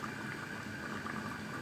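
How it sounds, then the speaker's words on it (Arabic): A pot of stuffed vegetables (mahshi) bubbles on the stove, a dense, steady boiling hiss with soft popping, close and alone. "زي ما انتوا شايفين كده المحشي ابتدى يغلي"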